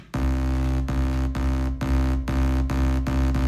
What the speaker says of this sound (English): another Maximus for some more multiband compression, and it'll sound like this.